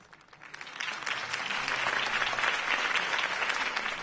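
Crowd applause after a campaign speech in the Batman Telltale series video game, swelling from a few claps into steady, dense clapping that holds for several seconds, moderately distant and without speech.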